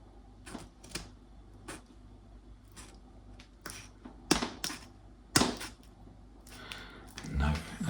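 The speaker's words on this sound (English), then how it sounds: "that is not going to cut easily with a pair of scissors" Scissors working at a rubber shower door seal produce scattered sharp snips and clicks with gaps between them, a few louder crunching cuts, and handling noise under quiet surroundings.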